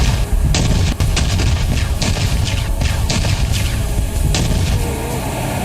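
Booming blasts and sharp reports from a K9 Vajra self-propelled howitzer firing, several loud bursts spread across a noisy, rumbling battlefield-like background.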